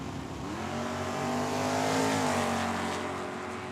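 A Nova and a Mustang drag race at Tucson Dragway, engines roaring steadily at high revs for a few seconds, loud and sustained with a pitch that climbs and then eases as the cars pull away.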